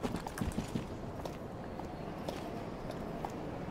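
Horse hooves clip-clop in the Dark Souls 3 video game, a quick run of close hoofbeats at the start giving way to softer, scattered steps over a low ambient rumble, with no speech.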